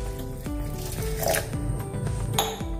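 Mixer grinder jar grinding soaked urad dal with a little water, a steady close motor whir with the wet batter churning, rhythmic thumps recurring roughly every second as the contents cycle inside the jar.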